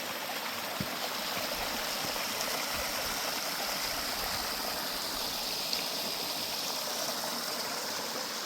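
A small feeder creek beside Gheerulla Creek flows steadily along a valley walking trail, a continuous close rushing and burbling of water filling the whole scene without pause.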